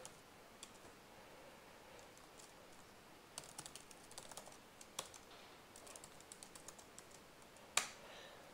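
Login details being typed on a computer keyboard, sparse soft key clicks in uneven bursts, quiet and close, ending with a sharper single tap like an Enter key.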